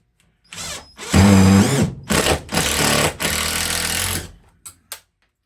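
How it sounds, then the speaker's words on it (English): A power drill with a screw bit drives screws while mounting a can crusher, several loud whirring bursts of varying length with short pauses between, close up and with no talk. "We're back to our screw bit and the drill."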